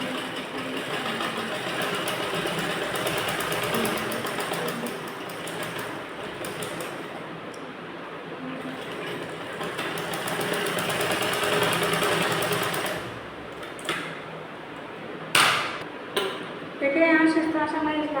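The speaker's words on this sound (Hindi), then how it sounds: "स्टिच लगाते हुए इस लाइन को हम कंप्लीट कर लेंगे।" Sewing machine stitching blouse fabric, a steady continuous mechanical whir running throughout, with a few clicks and a voice toward the end.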